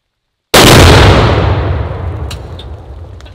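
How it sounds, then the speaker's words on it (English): A single loud, close blast from a target detonated by a .300 rifle shot at a farm, starting sharply, then rumbling and decaying over about three seconds, with faint clicks late in the tail. "We're gonna blow this thing up with the 300."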